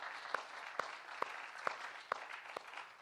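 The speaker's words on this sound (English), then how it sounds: "would you give me a big hand clap?" A church congregation claps along in a steady, evenly spaced rhythm at a morning service, faint and distant amid the room's ambience.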